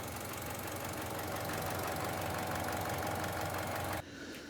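A Chevy Cruze engine idles after a turbocharger oil leak repair, a loud steady mechanical clatter with a close, constant knocking vibration that suddenly drops away near the end.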